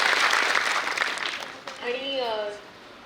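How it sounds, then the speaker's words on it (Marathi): Dense applause from an audience at a coaching-class gathering honoring a top-scoring student, loud at first then thinning out as a voice begins speaking over the fading clapping. "सो हिच्यासाठी परत एकदा जोरदार टाळ्या झाल्या पाहिजे"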